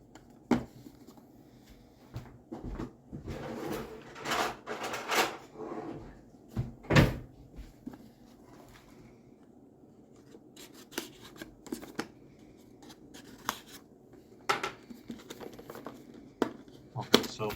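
Samsung T7 portable SSD package being opened: rustling, crinkling and rubbing of packaging with scattered sharp clicks and box-flap knocks, moderately close and mostly alone.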